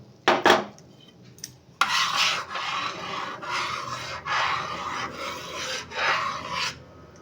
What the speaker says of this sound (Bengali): এবারে আমি দুধের মধ্যে যে গুঁড়ো দুধ গুলে রেখেছিলাম সেটা আমি পায়েসের মধ্যে মিশিয়ে দিলাম